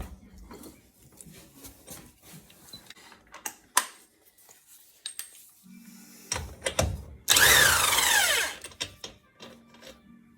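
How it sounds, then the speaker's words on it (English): A power tool with a 32mm socket spins loose the rear hub nut on a Rover 75/MG ZT during a suspension rebuild: one loud, harsh whirring burst of about a second, set among scattered clicks and metallic knocks. "Now you will need a 32mm socket to loosen the hub nut."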